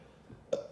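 One short, deep burp comes after a full Bojangles meal of fried chicken, seasoned fries, a biscuit and Sprite. It is a single close, abrupt eructation after near silence.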